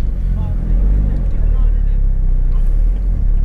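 A modified Mk1 Seat Leon Cupra R 225 with the BAM engine, tuned to 287 bhp, drives past with a steady, loud low rumble that stays even throughout, heard from close by with nothing else standing out.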